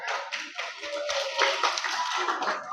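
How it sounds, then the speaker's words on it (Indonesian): Audience clapping for a child at an Indonesian children's seminar: a dense, moderately loud patter of many hands that holds steady for a few seconds with no talk over it. "tepuk tangan."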